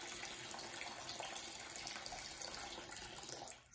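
Tap water pours steadily into a bowl or tub, a continuous splashing rush at close range that stops abruptly right at the end.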